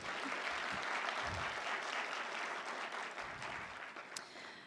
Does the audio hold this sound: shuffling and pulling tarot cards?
no